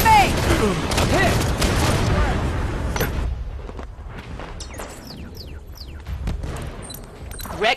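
A grenade explosion and gunfire in Halo 5 Warzone multiplayer, a dense loud burst of blasts and shots in the first seconds fading into scattered distant fire and impacts, with a voice calling out over the action.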